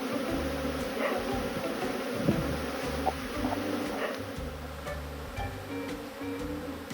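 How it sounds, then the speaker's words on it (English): Honeybees swarming around an old wooden hive in the Japanese countryside in early spring, a continuous low droning buzz that carries on steadily at moderate distance, with faint outdoor background. "Something's going on with the hive, Jesse."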